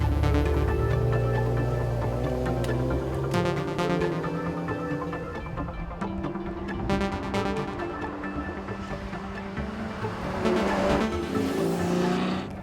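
Ferrari F12 Berlinetta with its 6.3 litre V12 on the move, a loud close engine drone rising and falling through revs and gear changes, with no talk.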